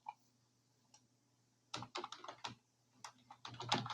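Code is typed on a computer keyboard in quick irregular bursts of close, crisp key clicks with short pauses between them, over a faint steady hum.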